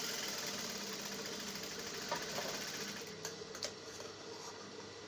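A sewing machine stitches darts into a mermaid dress with a steady, close, continuous motor whir and needle chatter that runs without pause, with a few faint clicks near the end.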